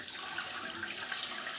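Strained green woad dye liquid is poured from a vat back into a pot, a steady close trickling splash of water running without pause.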